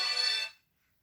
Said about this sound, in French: il m'a perturbé le téléphone